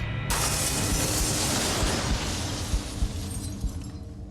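A chandelier swings on a rope in the video game Close to the Sun, giving a dense, loud mechanical rumble with creaks and clanks that runs steadily throughout, starting abruptly after a brief silence.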